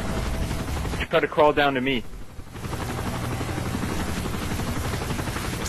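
A helicopter in Call of Duty: Modern Warfare 3 approaches as a loud, continuous rotor roar under distant gunfire, while a voice speaks briefly in the middle.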